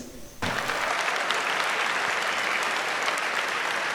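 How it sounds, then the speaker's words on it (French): A church congregation breaks into loud, sustained applause to acclaim the Lord, a dense, even clatter of many hands clapping that starts suddenly and keeps going. "Acclamons le Seigneur"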